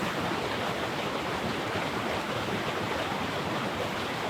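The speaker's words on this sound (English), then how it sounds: "And this is quite nice waterfall, nice composition I have here" Steady, dense rushing water fills the whole stretch, a constant broadband roar like falling water close by, with no voices.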